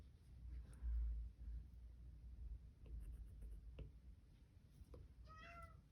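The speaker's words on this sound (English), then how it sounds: "Here comes the second cat." A house cat meows, a faint high cry near the end after a quiet room with soft tapping and light rustling.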